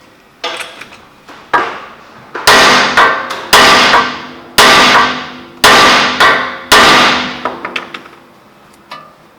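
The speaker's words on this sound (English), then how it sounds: "we're going to take a hammer and hit it on the actual lower control arm" A hammer strikes the lower control arm on the front axle of a 2010 Honda Accord, about ten loud, sharp metallic blows in an uneven rhythm, each ringing briefly.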